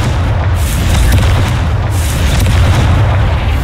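Confringo spell blasts in Hogwarts Legacy, heavy booming explosions with repeated punchy bursts over a loud, dense low rumble, close and continuous.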